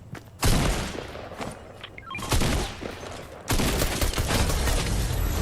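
Submachine gun fire in a video game sounds as three loud rapid bursts of automatic shots, with short quieter gaps between them and no talking.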